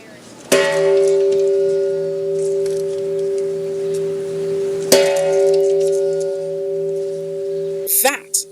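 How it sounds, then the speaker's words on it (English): The Peace Bell at United Nations headquarters is struck twice by the Secretary-General, each stroke a loud metallic clang followed by a long sustained ringing hum that slowly decays, with a brief clatter at the end. "That is the sound of the bell of peace rung by the United Nations Secretary General."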